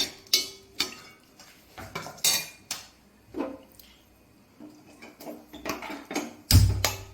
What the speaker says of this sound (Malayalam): മുളക് പൊടി, ഉപ്പ്, മഞ്ഞൾപ്പൊടി നല്ലപോലെ ഇളക്കി കൊടുക്കാം.